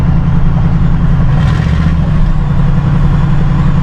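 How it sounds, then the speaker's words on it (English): Ford F100 pickup truck driving, a loud steady engine drone with low rumble and road noise heard from inside the cab, no talk. "I'm in the F100 headed back to Carburetor Springs"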